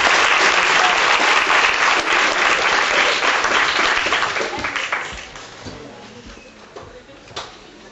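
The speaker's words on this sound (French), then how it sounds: "Quelques applaudissements." Loud audience applause at a hip hop dance show, a dense crowd clapping that holds strong for several seconds and then tapers off, with a few scattered claps lingering at the end.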